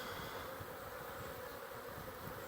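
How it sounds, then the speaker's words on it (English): Honey bees on orientation flights make a dense, steady buzzing swarm drone that fills the air without a break, close and continuous with no voices. "orientation flights here, as you see, they're all buzzing around"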